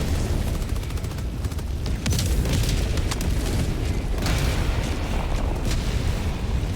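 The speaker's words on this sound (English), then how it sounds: "There's an artillery barrage over there." A continuous artillery barrage in Helldivers rumbles with deep, overlapping explosions and booms, loud and sustained throughout, with sharper blasts punching through the low roar.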